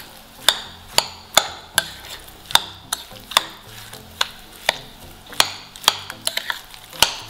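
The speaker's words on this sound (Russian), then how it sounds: "И хорошенечко перемешиваем." A utensil clacks sharply against a bowl while curd, two eggs and sugar are mixed together, in an uneven series of close, distinct knocks and scrapes with no talking.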